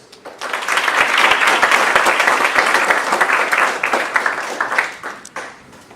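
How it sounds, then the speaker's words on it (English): An audience at an urbanIDEA event claps for the guests, a full burst of many hands that swells quickly, holds loud and dense, then thins into scattered claps before fading. "please can we first have a hand for our guests"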